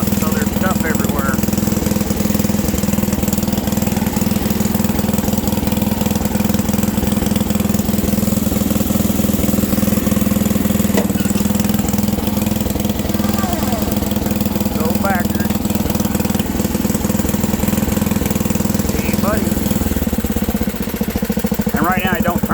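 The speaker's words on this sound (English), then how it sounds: "So I'll idle it all the way down. Idle it all the way down and let her run out of steam that way." A small engine idles with a steady, close, rumbling putter that runs continuously throughout, holding a low, even drone, while a person talks over it at times.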